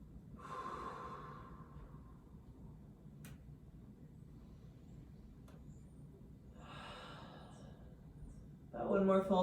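Slow, deep breaths during a gentle yoga flow pose, a soft airy inhale and later another long exhale, faint and close over a low steady room hum.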